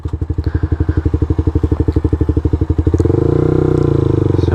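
Motorcycle engine close up, pulsing in a rapid even rhythm, then smoothing into a steadier, louder drone as the clutch is pulled in and the bike brakes to a stop.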